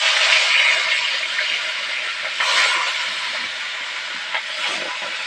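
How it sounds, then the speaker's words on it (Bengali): Loud, steady sizzling hiss of rohu fish pieces, coated in salt and turmeric, frying in hot oil, continuous and close, with a few small pops. "এবার মাছগুলো ভেজে নেবো"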